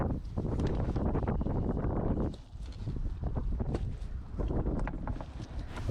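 Breezy wind blows while a sailboat is being rigged, a steady blustery rush buffeting the microphone with brief lulls and gusts.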